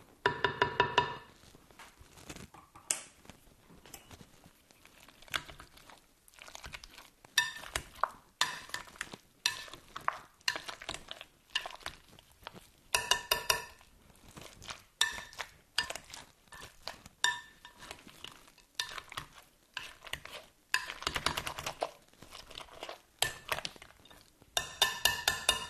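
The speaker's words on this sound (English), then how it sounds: "go ahead with that potato masher and just make it as smooth as you can" Cooked potatoes mashed with a potato masher for a New Orleans potato casserole, repeated soft thuds and squelchy scraping in irregular bursts with short pauses, close and moderately loud, no talk.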